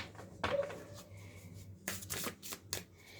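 Tarot cards are shuffled by hand and some slip and fall, producing a brisk papery riffle, a soft flick, then a burst of quick rustling slaps, close and moderately loud.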